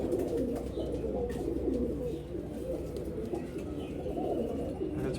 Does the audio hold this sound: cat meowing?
no